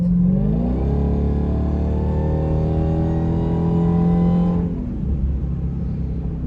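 A 2023 Dodge Demon 170 accelerating hard, its loud engine roar climbing steadily in pitch for about four and a half seconds before the throttle lifts and a lower rumble remains.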